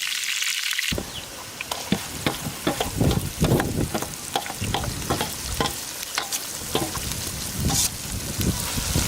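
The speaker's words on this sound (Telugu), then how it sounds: "ఇవి 2-3 నిమిషాలు వేగాక మనం మిగిలిపోయిన మసాలాని ఇందులో వేసి బాగా వేయించుకోవాలి." Masala frying in hot oil with curry leaves and green chillies, a loud steady sizzle broken by repeated scraping stir strokes of a spoon against the pan, close up with no voices.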